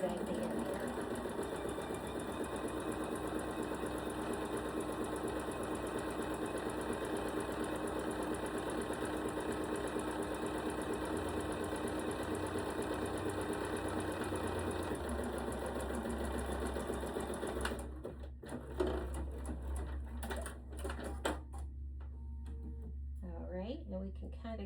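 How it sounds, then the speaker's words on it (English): A sewing machine runs steadily in a zigzag stitch along a fabric edge, a loud continuous mechanical whir that stops near the end, leaving quieter handling noises. "I'm just gonna finish this edge here with the zigzag."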